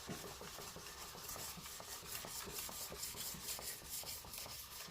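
Steady rubbing and rasping strokes of jointer/planer knives being worked back and forth on a flat sharpening block, a close, continuous scraping with a quick repeating rhythm and no talk.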